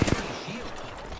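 Gunfire in a battle royale video game, a couple of quick sharp shots right at the start followed by a lingering, fading rattle.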